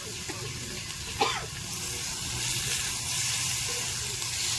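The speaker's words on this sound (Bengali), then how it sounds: "এবার চিকেনটা যাচ্ছে কড়াইয়ের মধ্যে।" Chicken frying in a kadai gives a steady, moderate sizzle with a quick clatter as it goes in, then continues evenly in the background.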